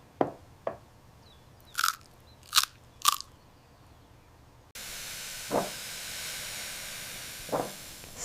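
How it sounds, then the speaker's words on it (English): Crisp crunching bites into a lotus root dish, several sharp crunches in close succession, nearby and fairly loud. Later come a steady hiss and a couple of softer crunches. "The ultimate crunchy and tender bite."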